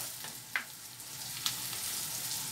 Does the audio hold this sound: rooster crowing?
no